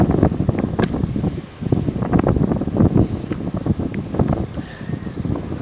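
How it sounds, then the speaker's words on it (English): Strong wind buffets the microphone outdoors at a scenic roadside stop near Penzance, a loud, continuous gusting roar with rumbling bursts close to the mic. "It's really, really windy."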